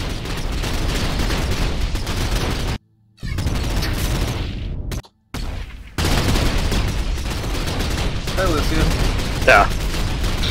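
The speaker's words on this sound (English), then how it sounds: "Why did you shoot me?" Gunfire in the shooter game Executive Assault 2, rapid dense volleys of shots and booms filling most of the clip, broken by two brief silent gaps, loud and close.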